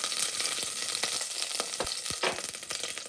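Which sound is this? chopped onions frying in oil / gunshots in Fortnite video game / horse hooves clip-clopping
chopped onions frying in oil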